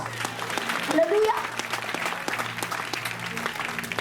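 A church congregation claps steadily to acclaim Jesus, a dense, moderately loud applause that lasts throughout, with voices calling out over it.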